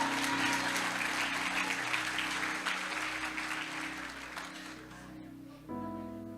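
Applause from a church congregation in Guapimirim, Brazil, a fairly faint, even wash of clapping over a low sustained organ-like tone that continues as the clapping fades near the end.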